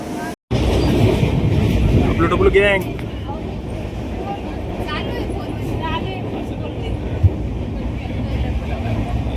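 A train pulls into a railway station, a loud rumbling roar of wheels and carriages that holds steady and then eases slightly, with people talking over it and a short gap near the start.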